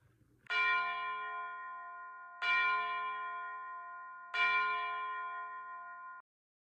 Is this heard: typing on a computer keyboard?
no